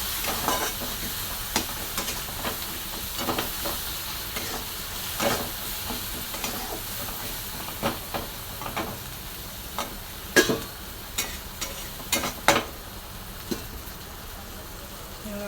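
Onion and spice masala with turmeric frying in a pan, stirred with steady sizzling and repeated scraping knocks of the spoon, close and alone with no talk.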